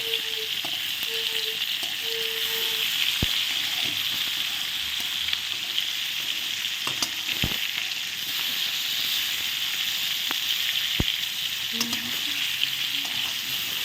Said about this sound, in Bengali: আলুগুলো মাছের সাথেই ভাজা হয়ে যাচ্ছে